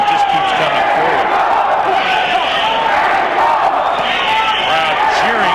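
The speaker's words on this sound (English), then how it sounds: "Crowd cheering for Lopez, trying to get him going." An arena crowd at a boxing match between Ricardo Lopez and Rosendo Alvarez cheers on Lopez, a dense and steady roar of many voices with scattered shouts rising above it.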